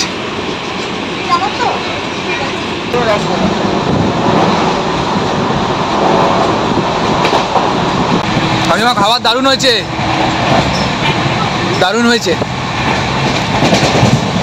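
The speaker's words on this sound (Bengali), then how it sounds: "আপাতত আমাদের ট্রেন শক্তিগড় ক্রস করছে" Train running on the tracks, heard from inside the carriage as a loud, continuous rumble and rattle, with squealing wheel bursts toward the end while people chat nearby.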